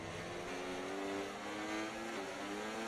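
Formula 1 car engines at a race start in the F1 24 racing game, a loud continuous high-pitched roar with pitch slowly climbing as cars accelerate, no talking.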